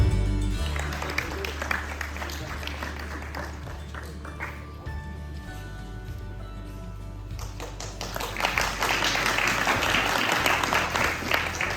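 Audience applause at a graduation ceremony for the College of Vedic Studies at ISKCON Leicester, a broad sustained wash of clapping that swells louder toward the end, with some voices mixed in.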